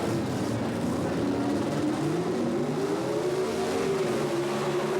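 Two gas coupe and sedan drag cars roar off the line in NHRA Modified Eliminator racing, a loud, continuous engine howl climbing in pitch as they accelerate, with no voices over it.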